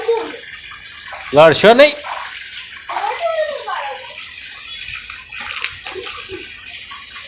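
Running water splashes loudly into a tub as children play with it, bursts of sloshing and gushing rising and falling, while a voice and an adult's voice speak over the water.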